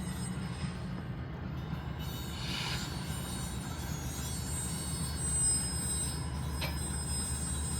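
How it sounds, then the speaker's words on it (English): Steady low rumble of a train passing close by, a continuous rolling roar with faint higher wheel squeal, unbroken throughout with no speech. "Wait, should we stay here and wait for the train to end?"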